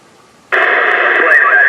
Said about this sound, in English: that don't sound like an off-frequency radio now, does it?